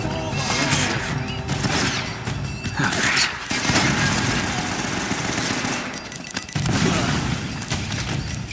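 Sustained heavy gunfire from a mounted gun in Uncharted: Drake's Fortune at a fortress, continuous rattling bursts with brief gaps, mixed with impacts and shouting voices.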